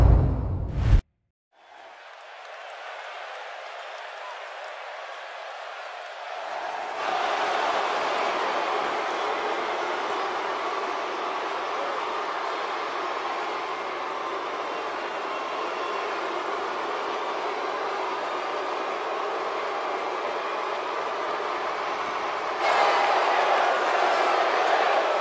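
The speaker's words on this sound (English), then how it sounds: "as you can tell by the sound of the crowd around me" The arena crowd in WWE 2K17 makes a steady wash of roaring noise that swells after a short quiet start and holds throughout, with a louder surge near the end.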